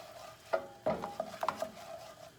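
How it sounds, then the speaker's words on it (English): Challah French toast bubbling and starting to caramelize in a hot pan, a soft sizzle broken by several scraping stirs and clinks at close range, with no one talking. "you see how it's starting to bubble a little bit?"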